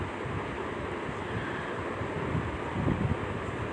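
Chopped onions fry in oil in a frying pan, a faint, steady sizzling hiss close by, with no voices.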